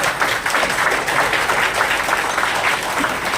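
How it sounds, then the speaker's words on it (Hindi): An audience at a seminar on tribal perspectives at CVRU bursts into loud, sustained applause, a dense wash of many hands clapping that continues throughout without pause. "एक बार जोरदार ताली खुद के लिए बनता है"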